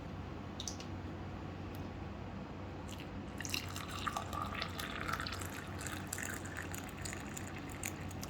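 Warm water pours into a cup holding a hibiscus tea bag, a faint, steady trickle and splash rising slightly midway over a low background hum.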